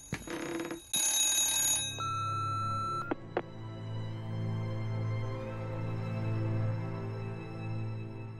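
A telephone rings in Remothered: Broken Porcelain, with a loud bell ring near the start, then clicks and a sustained low electronic hum with lingering tones.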